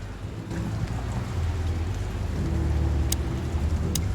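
Steady rain falls in the noir detective video game Chicken Police, a dense low rushing wash with faint splashes and a couple of brief ticks, constant and close with no speech.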